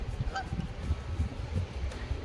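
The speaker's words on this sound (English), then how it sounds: "Geese never travel solo. Why is there one goose?" A goose honks a few times nearby, short nasal calls over a low rumbling background.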